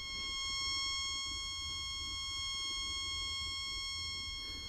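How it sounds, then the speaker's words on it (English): A Cub Cadet RZT zero-turn mower with a suspected air leak emits a steady, high-pitched electronic buzz, constant and fairly faint over a low rumble throughout. "It's making like a high-pitched buzz"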